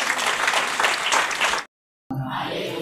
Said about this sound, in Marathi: आपण जोरात टाळ्या वाजवून प्रभू येशूला धन्यवाद देऊया